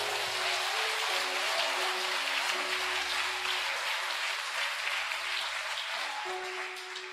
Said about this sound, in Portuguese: Um aplauso para Jesus.